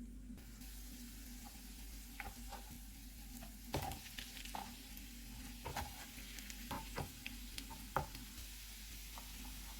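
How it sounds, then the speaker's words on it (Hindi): Eggs fry in a little oil on a hot tawa griddle with a low, steady sizzle, broken by scattered crackles and pops and a few light clinks, no talk. "अब हम जर्दी को बाद में डालेंगे और हाफ़ फ्राई करेंगे"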